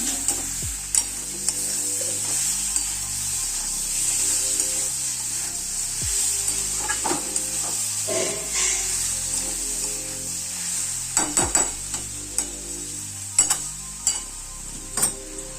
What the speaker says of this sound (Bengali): এবারে ভেজে রাখা পটলটা দিয়ে দিলাম, তারপর ভালো করে নেড়ে নেব।